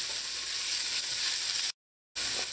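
Chopped garlic goes into a pan of softened onion over medium heat, giving a steady, bright sizzle of frying that runs loud and even, broken by a short moment of silence before it resumes.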